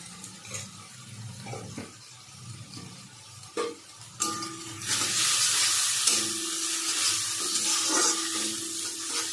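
Masala paste frying in a pan with cumin and coriander powder added for a fish curry, soft stirring and clatter at first, then a louder, brighter sizzle swelling up and holding steady, no talking.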